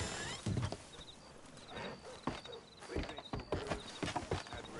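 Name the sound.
horse-drawn ride clip-clopping in video game Red Dead Redemption 2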